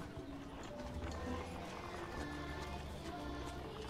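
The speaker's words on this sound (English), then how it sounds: "I just heard the horses." Horse sound effect during a stage production of A Christmas Carol, quiet rhythmic hoof clip-clop with a faint whinny, low in level beneath background music and room noise.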